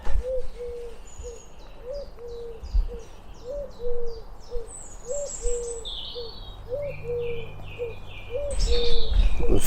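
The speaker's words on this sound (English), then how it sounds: "The familiar sound of the wood pigeon in the background as well." Wood pigeon cooing in Suffolk woodland: a steady run of soft, rhythmic low coos repeating in the background, with higher chirps and song from other small birds scattered over the top.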